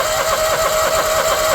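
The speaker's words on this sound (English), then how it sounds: "And then I'm going to choke it, make sure it cranks." A choked small engine running steadily with a buzzing drone and a constant high whine, close and loud throughout with no pauses.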